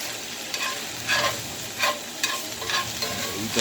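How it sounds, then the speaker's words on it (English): A spoon stirs chicken pot pie filling of carrots and potatoes in a pot, with a low simmering sizzle and several distinct scraping strokes spaced about a second apart, no talking. "You want to stir it up real good. Make sure it ain't sticking."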